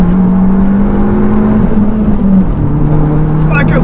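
A modified Fiat Abarth with a rebuilt engine and forged pistons revs hard and accelerates, its loud, steady engine drone rising and shifting in pitch from inside the car as it drives a twisty road.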